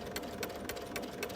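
A sewing machine fitted with a walking foot stitches through a quilt in a short, quiet burst of rapid, even mechanical clatter.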